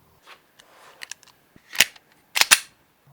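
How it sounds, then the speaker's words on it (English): A 9mm full metal jacket round fires from a Glock 19, producing sharp cracks: one loud report followed by a quick double burst of snapping impacts, with softer clicks and knocks before them. "we're moving up to a full metal jacket, 9mm, shooting it out of a Glock 19"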